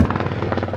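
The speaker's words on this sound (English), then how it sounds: "Is that a helicopter overhead?" Helicopter flying overhead, a steady rhythmic rotor thump that is close and fairly loud for a brief moment.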